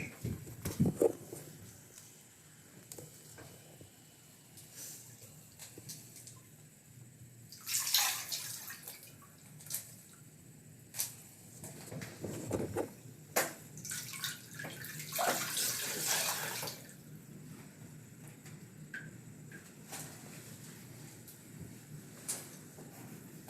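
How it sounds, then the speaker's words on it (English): Water poured from a jug to rinse feet splashes and trickles in irregular bursts, with a few louder gushes and scattered drips, close by in a quiet room. "rinse your feet with the jug,"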